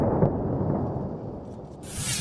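A deep rumbling blast rolls out, followed by a lingering low roar and a sharp hissing burst at the end.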